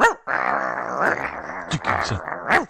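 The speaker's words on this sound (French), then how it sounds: "C'est qui ça, c'est mon chien." A dog growls loudly and close up in a steady rumbling snarl, rising into a few sharper yelps and whimpers near the end, heard alone without talk.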